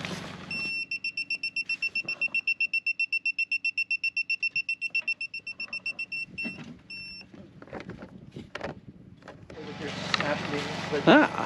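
A portable gas detector inside a cabin sounds its alarm at gasoline fumes, a rapid regular train of sharp high-pitched beeps running for several seconds, then stopping amid handling noise and a burst of rushing air at the end.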